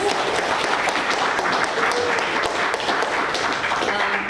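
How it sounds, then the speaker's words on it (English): Audience giving a round of applause to a newly appointed school president at a speaker event, a full, steady crowd clapping that carries on evenly from start to finish. "let's give him a big round of applause"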